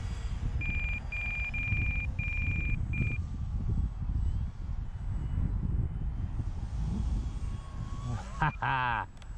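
An FMS PA-18 Cub model airplane's electric motor whines steadily as it flies, with a near-constant drone, beeping tones early on, and a brief rising whir near the end.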